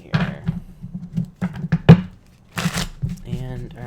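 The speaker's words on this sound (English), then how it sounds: "Two more shuffles here, people." Tarot cards are shuffled in short, crisp riffling bursts, with a person talking in between the shuffles.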